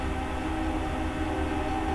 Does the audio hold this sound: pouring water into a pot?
no